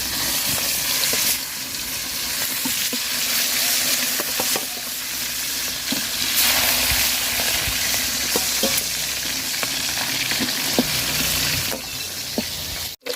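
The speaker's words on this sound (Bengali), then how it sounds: "বড় মাছ এই কটা, বড় মাছটি ভাজা নিব।" Large pieces of fish frying in hot oil, a dense continuous sizzle with occasional stirring clicks and scrapes, close and loud with no talking.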